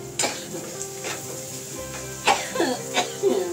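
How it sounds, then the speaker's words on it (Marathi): Steady sizzling of spices tempering in hot oil with faint stirring, then a few sharp coughs from the fumes near the end. "आता ठसका येतोय, म्हणजे मस्त फोडणी झाली."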